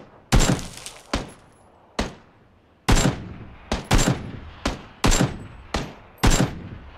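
Gunfire in a PUBG match comes as a string of loud, separate shots with sharp cracks and short decaying tails, spread irregularly across the stretch and heard alone with no talking.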